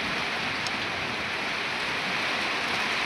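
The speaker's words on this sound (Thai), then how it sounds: "ฝนตกแล้วพี่น้อง" Steady rain falling on the ground outdoors, a constant dense hiss with no let-up, close and fairly loud with no voices.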